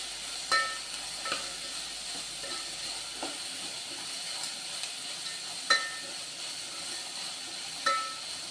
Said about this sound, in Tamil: வெங்காயம் நல்லா வதங்குங்க.